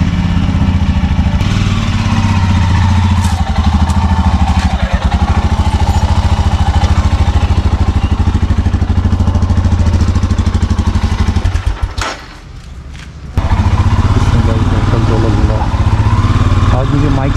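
Motorcycle engine idling close by, a continuous low throbbing rumble with a short drop-off about two-thirds through before it resumes; a voice talks over it at times.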